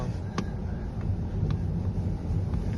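Strong wind blows across a snowy car park in Akita, Japan, a steady close low rumble buffeting the microphone, with a few faint clicks and no speech.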